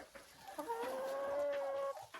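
A Leghorn hen gives a drawn-out, rising cluck close by, sustained for over a second, amid scattered softer clucks and light farmyard movement.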